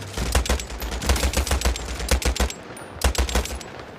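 Dense gunfire from many players in a World War-themed shooter game, with rapid bursts and repeated shots overlapping in a loud, chaotic fusillade that briefly pauses before erupting again.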